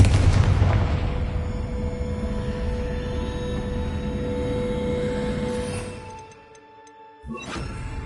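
A Confringo fire-blast spell from Hogwarts Legacy erupts as a loud booming, whooshing explosion that rumbles on for several seconds, fades into near silence, then bursts again briefly near the end.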